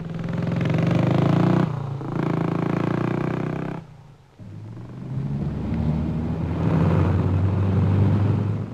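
A motorbike and a car race along a road, giving a loud, close engine roar that drops away sharply midway and then builds again as a rumbling second pass.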